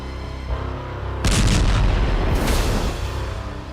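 Missile explosion near a nuclear power plant caught on CCTV: a loud, sustained rumbling blast surges over a dense, noisy background roar and stays heavy and booming to the end, with no voices.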